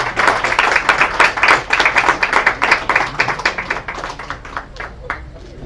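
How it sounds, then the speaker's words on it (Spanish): Audience applause at a history group's talk, dense rapid clapping from a crowd that stays steady and fairly loud, then thins out slightly toward the end. "pues un aplauso"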